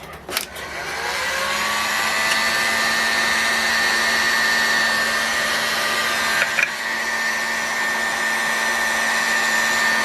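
Steady, loud blower-like whoosh as the front housing of an OS 61FSR-H model engine is heated for front bearing installation, running continuously with a faint click near the start and another midway.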